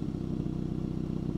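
A Peugeot 405 petrol engine idles steadily after a carburetor adjustment, its low, even, rhythmic pulsing heard close and alone without talk.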